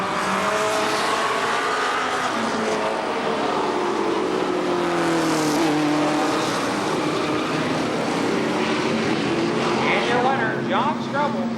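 Race cars roar together at Columbus Motor Speedway in a 1999 heat race heading to a close finish, a dense, loud, continuous engine drone with passing pitch sweeps and an announcer talking over it.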